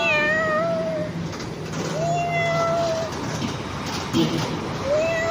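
A cat meows several times, drawn-out, plaintive calls spaced a second or two apart over a noisy background.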